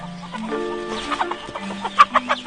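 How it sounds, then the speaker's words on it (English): A chicken on a tea farm clucks nearby, giving a few short, clear clucks toward the end over a low steady background. "This chicken is also part of the farm here."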